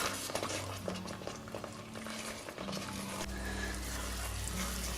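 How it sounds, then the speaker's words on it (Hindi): Sohan halwa being roasted and stirred nonstop in a pan gives off a steady sizzling, scraping hiss, with a low continuous hum beneath it and no talking. "अब मैं हलवे को मुसलसल भूनती जा रही हूँ।"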